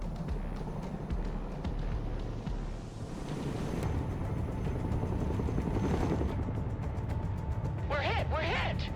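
A Chinook transport helicopter in the war game Broken Arrow makes a continuous heavy rotor and engine roar, loud and steady throughout, with game voice lines and effects layered over it.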